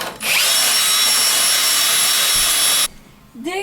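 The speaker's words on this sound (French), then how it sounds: "vous prenez la perceuse avec la brosse métallique" A power drill fitted with a wire brush scours the wheel of a Peugeot 103 moped, a loud, steady abrasive whir running about two and a half seconds before cutting off, followed by a brief rising tonal sound.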